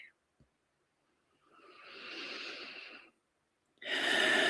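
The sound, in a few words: soft deep breathing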